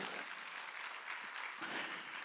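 A church congregation at a Sunday service in Incheon claps softly for a couple of seconds, a faint, even patter of hands without voices.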